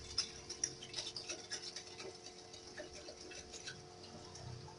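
Vinegar and water mixture poured into a kettle, a faint continuous trickle with a few small clinks and splashes near the start over a quiet room hum.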